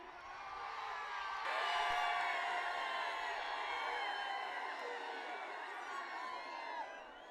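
A large crowd at a bullock cart race roars and whoops in a sustained wave of cheering, with many overlapping shouts that stay loud and steady throughout.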